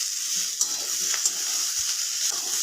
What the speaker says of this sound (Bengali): এখানে সবজিগুলো অনেকক্ষণ ভাজা হয়ে গেছে